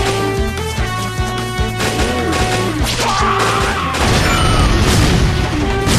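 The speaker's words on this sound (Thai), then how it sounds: "โยนระเบิดไปแล้วนะครับเมื่อกี้" Grenade blast in the mobile game Metal Slug Awakening, a loud booming crash rising out of steady game music and effects, with no talk over it.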